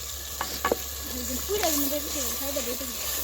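Spice paste being fried and stirred in oil in a home kitchen for chicken curry, a steady sizzle with a few scraping stir clicks near the start, under a faint wavering tone.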